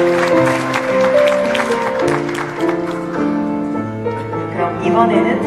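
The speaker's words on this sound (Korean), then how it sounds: "여러분의 박수 다시 한번 부탁드립니다." Wedding guests clap steadily during the ring exchange at a ceremony, with soft, continuous applause under music and voices.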